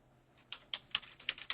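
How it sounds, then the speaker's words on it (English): Keys on a computer keyboard clack in a quick, uneven run of soft taps, fairly faint and close, with no voice over them. "I'm typing in and listening"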